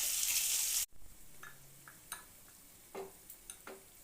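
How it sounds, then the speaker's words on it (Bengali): Spice masala fries in a kadai over medium heat, a loud sizzle for the first second, then quieter scattered scrapes and taps as a spoon stirs the paste against the pan. "মিডিয়াম আঁচে রেখে মশলাটা কষিয়ে নেব, মশলাটা লেগে যেতে পারে কড়াইয়ের গায়ে।"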